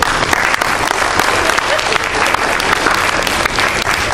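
An audience claps loudly and steadily throughout, a dense continuous wash of applause from a crowd at a Tea Party gathering.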